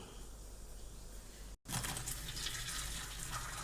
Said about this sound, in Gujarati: હવે પહેલાં આમ ગાળી લઈએ